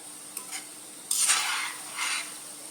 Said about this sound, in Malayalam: നമുക്ക് പയ്യെ ഒന്ന് ഇളക്കി കൊടുക്കാം കേട്ടോ